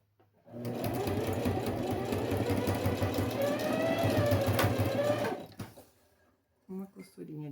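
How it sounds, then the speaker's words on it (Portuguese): A sewing machine runs a reinforcement seam on a homemade school pencil case, a steady fast mechanical whirring chatter for about five seconds that stops, followed by a few handling sounds and brief talk. "Mais uma costurinha de reforço aqui."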